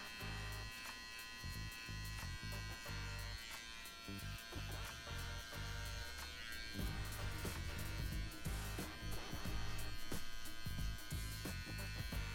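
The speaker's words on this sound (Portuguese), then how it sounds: "agora nós iremos tirar a parte de baixo aqui com a máquina de acabamento" A finishing trimmer buzzes steadily while tidying the lower sides of a buzz cut with a fade, a close, continuous electric whine with small shifts as the blade moves over the hair.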